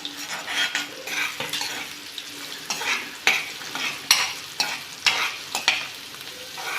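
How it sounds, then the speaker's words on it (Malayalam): Chopped onions frying in hot oil for paneer curry, a sizzling hiss punctuated by repeated sharp clinks and scrapes of a spoon against the pan, close and moderately loud. "പനീർ കറിക്ക് എണ്ണ വെച്ചതിന് ശേഷം ചൂടായതിന് ശേഷം അതിൻ്റെ കൂടെ സവാള അരിഞ്ഞത് എടുക്കുക"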